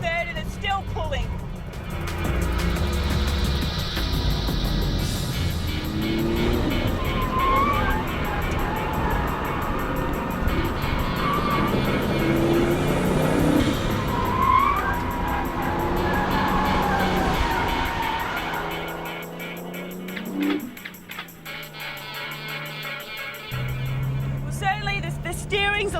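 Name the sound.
Porsche 930 engine pulling in second and third gear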